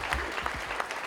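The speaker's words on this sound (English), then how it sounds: "Big round of applause." Brief burst of audience applause at a law enforcement awards event, a steady wash of clapping from a seated crowd lasting about a second.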